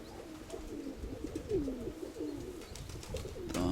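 Pigeons cooing nearby in low, rolling calls, repeated over a soft background hum.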